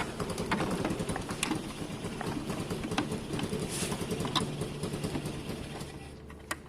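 A 125cc Vespa scooter engine, converted to 50cc and back, idles low and unevenly nearby with a steady lumpy chugging throbbing through the clip.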